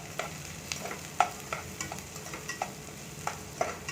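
Small chopped onions frying in oil are stirred in a pan, giving a soft steady sizzle broken by faint scraping clicks of the spoon. The sound is quiet and close, with no talking.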